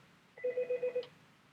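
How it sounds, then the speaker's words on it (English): A mobile phone rings during a math lesson with a quick run of five evenly spaced electronic beeps, faint and clear against a quiet room. "Oh, that's my phone."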